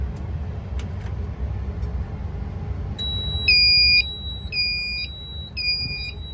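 A Notifier ACM24-AT fire alarm annunciator's piezo sounds a trouble alert of shrill, pulsing electronic beeps that start partway through, over a low steady room rumble.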